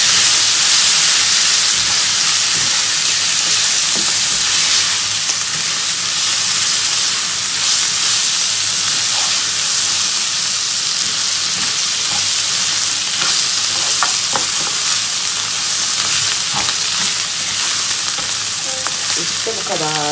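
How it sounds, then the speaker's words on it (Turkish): A pot of spinach soup is stirred steadily over heat, giving a continuous loud hiss and sizzle with faint scraping knocks from the spoon. "Şöyle güzelce güzel karıştıracağım."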